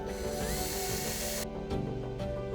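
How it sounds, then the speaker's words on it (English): A jigsaw fitted with a metal blade whines as it cuts a clear acrylic sheet, with a dense buzzing tone whose high edge drops off abruptly partway through, leaving a lower rattling hum. "I'm using a jigsaw with a metal blade. It allows me to cut the plastic without cracking it."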